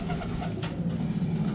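Pigeons coo steadily inside a truck, a dense, continuous layered murmur of several birds close by with no talk.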